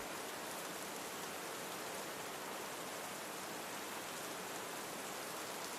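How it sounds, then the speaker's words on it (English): Steady rain pours down in a cozy cabin setting with a fireplace, a dense, even hiss with no breaks, constant and moderately close. "The rain continues, slow, endless."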